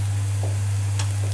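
Leeks cook in a pan with a steady, even sizzle at moderate level, broken by a few faint stirring clicks and no talk.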